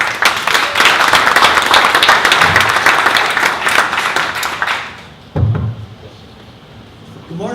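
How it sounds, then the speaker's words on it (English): A roomful of people at a 1 Million Cups Dallas startup gathering bursts into loud, close, dense clapping for about five seconds before it dies away, followed by a couple of soft thumps. "Give them a round of applause"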